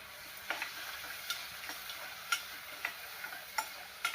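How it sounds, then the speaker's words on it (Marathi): Tomatoes sautéing with browned onions in a pan for a quick vegetable dish, a soft steady sizzle with periodic spoon scrapes and taps against the pan, fairly faint, no voices. "टोमॅटो 2 मिनिटं परतून घेऊ."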